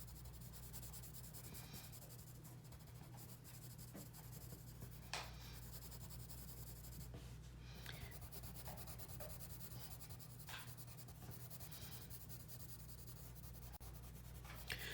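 Oil pastels being rubbed across paper to color hearts make soft, close scratchy strokes that repeat steadily and faintly, with no voices.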